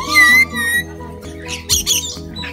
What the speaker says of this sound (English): feeding his bird, little lorikeet